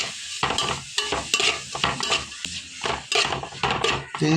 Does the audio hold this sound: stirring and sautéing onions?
yes